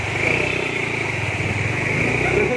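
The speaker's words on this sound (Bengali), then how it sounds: "বন্ধুরা এতক্ষণ আমি বাইক চালালাম" A motorcycle engine droning steadily up close while riding near Kurseong, with a constant buzzing hum and rumble.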